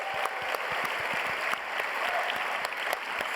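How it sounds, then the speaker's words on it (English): An awards-show audience at the D.I.C.E. Awards claps for the game nominees, a dense, steady wash of applause with sharp individual claps standing out, close and continuous throughout. "let's give them a huge round of applause"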